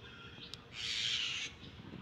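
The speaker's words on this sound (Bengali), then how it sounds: "ওই যে পাখি ডাকতেছে, পাখির ডাকটাও মাশাআল্লাহ" A bird calls from near a rooftop in the morning, a single harsh, drawn-out call lasting under a second, moderately distant and fairly faint over quiet outdoor ambience.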